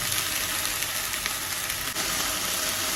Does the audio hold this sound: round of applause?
no